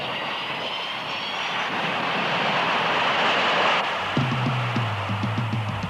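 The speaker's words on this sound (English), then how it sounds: "This is TAA's Flight 2, arriving at Perth Airport." A TAA Boeing 727 airliner arrives at Perth Airport, its jet engines a loud broad roar that fades slightly before a lower rhythmic whine and mechanical tones take over as it rolls in.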